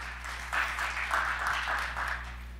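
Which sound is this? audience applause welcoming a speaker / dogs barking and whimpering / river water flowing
audience applause welcoming a speaker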